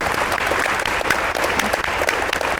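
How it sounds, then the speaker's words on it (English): An audience gives a guest raised in Arkansas a full round of applause, a dense and steady wash of many hands clapping at once, loud and sustained throughout with no voices on top. "let's just start by giving her a hand of applause for taking the time to be here"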